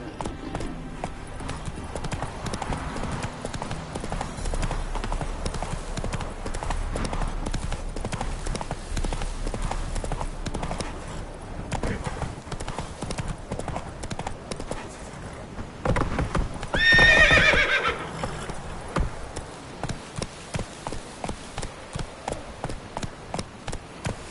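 Roach, a horse in the video game The Witcher 3, gallops with steady rapid clip-clop hoofbeats and gives a short loud neigh partway through, with faint talk in the background.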